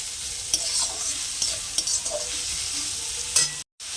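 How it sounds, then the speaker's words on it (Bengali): A fish dish cooking in fish oil is stirred with salt in a frying pan, with steady sizzling under repeated scraping stirs and a brief silent gap near the end. "পরিমাণ মতো লবণ দিয়ে ভালো করে একটু নাড়াচাড়া করে নেব"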